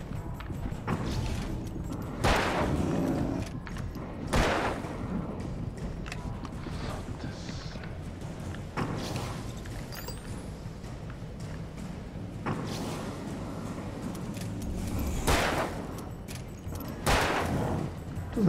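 Repeated bursts of gunfire in Alan Wake crack out at irregular intervals over a busy, dense game soundscape with thuds and movement.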